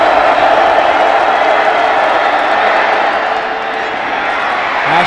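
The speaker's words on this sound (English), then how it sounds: "Crowd on its feet at Martin Stadium" Loud, sustained roar of a college football crowd at Martin Stadium cheering on its feet, easing slightly midway before swelling again.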